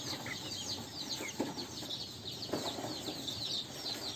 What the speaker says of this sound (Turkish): civcivlerimiz de maşallah arkadaşlar